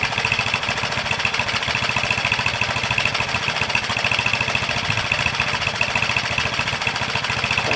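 1967 Honda CL90 motorcycle engine idling after carb adjustments, a fast, even putter close to the listener, steady throughout with no voices.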